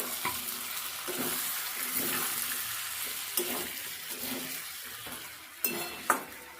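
Chicken liver being stirred and sautéed in a pan for kosha, with a steady sizzle and repeated scrapes of a spatula against the pan, plus a few sharper clinks near the end; no talking.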